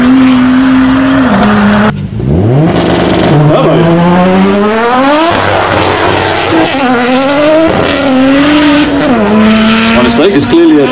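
A BMW launches and accelerates hard at a concours of elegance, its engine note climbing through rising gear sweeps with shifts between them, loud and close, while people talk over it.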